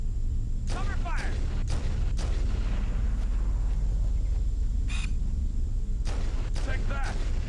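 Gunfire in Halo: Combat Evolved Anniversary, with sharp shots cracking out at irregular intervals over a steady loud rumble of battle, some sounding near and punchy, with voices calling out in between.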